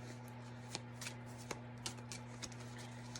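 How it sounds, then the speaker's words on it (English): Tarot cards shuffled and picked by hand during a collective reading, with soft, irregular papery flicks and taps scattered over a steady low electrical hum, close and quiet with no voice. "So we're just gonna pick these cards really quick"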